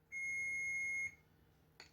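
A refrigerator in a home kitchen gives a single steady electronic beep lasting about a second, fairly faint, followed by quiet room noise and a brief clatter.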